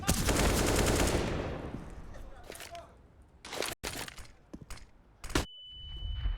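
AK-47 gunfire rattles in Counter-Strike on the Mirage map, bursts of loud automatic shots at first, then scattered sharper shots and a glassy break, with a commentator talking over it.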